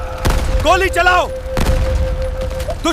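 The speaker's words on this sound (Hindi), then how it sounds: "गोली चलाओ!" Cartoon gunfire: a few sharp, loud bursts with a strong boom, separated by synthetic swooping tones and a steady tonal hum.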